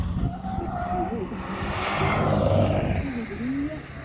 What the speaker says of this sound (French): en espérant qu'il n'ait pas endommagé ses pneus avec le blocage aussi